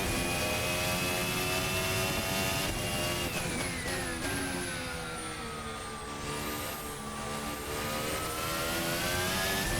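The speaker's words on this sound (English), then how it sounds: "Engine power out of the final corner." Williams FW37 Formula One car with Mercedes engine in the VRC racing game, a high-pitched engine note sweeping up through the gears as it accelerates, continuous and loud with no talking.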